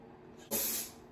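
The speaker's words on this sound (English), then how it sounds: "Take my spray. It's cold." A single short burst of cold aerosol spray, used on a lace wig, hisses sharply for about half a second, then trails off, close and fairly loud.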